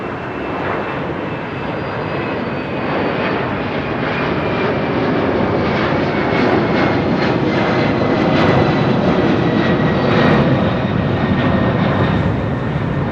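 Old, smoky jet airliner departing Heathrow, compared to a Tupolev Tu-154: a loud, close, sustained engine roar with a whining tone, swelling slightly as it passes, no voices.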